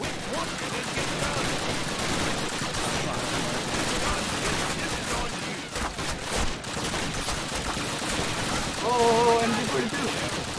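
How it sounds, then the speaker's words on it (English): Dense, continuous MG42 machine gun fire rattles through a Call of Duty battle in Normandy, a loud sustained barrage with chaotic explosions and brief tonal shouts layered in near the end. "Oh, MG42!"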